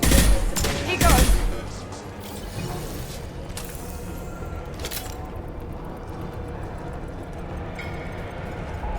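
Gunfire in Mass Effect 2 bursts out in a few sharp, loud shots early on, then gives way to scattered distant blasts and impacts under a continuous combat background, with voices speaking.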